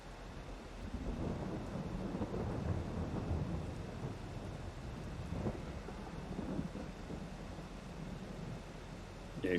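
Rain and rolling thunder in Farming Simulator 22 form a steady low rumble with wind-like noise, moderately faint and continuous throughout, no talking.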